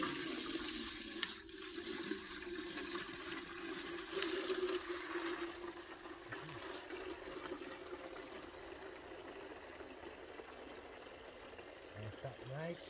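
Water gushes and splashes into a water-filtration vacuum cleaner's tank in a steady rushing stream, with gurgling swirls and a faint voice near the end.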